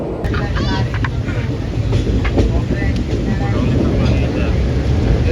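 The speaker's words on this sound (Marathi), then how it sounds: "मस्त पाऊस पडतोय फुल आणि एकदम फॉगी वेदर झालं आहे. ट्रेन पण सारखी मध्ये मध्ये थांबते" A train rumbles steadily along in heavy rain and fog with a continuous rushing hiss, muffled voices faintly underneath throughout.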